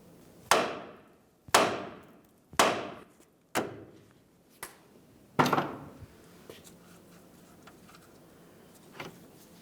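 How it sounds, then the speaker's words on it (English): A hammer bangs a steel steering knuckle on a 2010-2013 Ford Transit Connect to shake the outer tie rod end loose: five sharp, ringing metallic strikes about a second apart, then fainter clatter and one last light tap. "Now we'll continue on with a hammer. We're going to give the knuckle a couple loving bonks"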